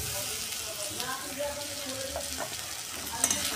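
Cumin seeds fry in hot oil in a pan for pav bhaji, a soft steady sizzle close by, with a few light clinks of utensils and no talk over it.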